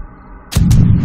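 A gunshot in the survival video game 7 Days to Die, one loud close boom with a quick second crack and a lingering low rumble after a quiet start.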